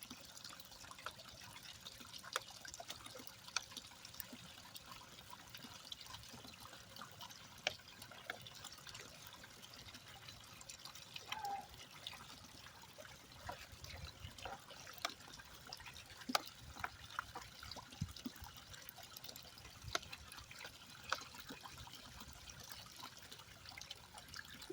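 Water running steadily through a sluice processing trommel concentrate at a gold and gem mine, a soft continuous trickle and splash with scattered small clicks and knocks, fairly quiet and close, with no talk.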